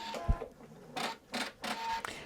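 An embroidery machine stitches a crosshatch design in silver metallic thread, giving close, moderately quiet bursts of rapid mechanical chatter separated by short pauses.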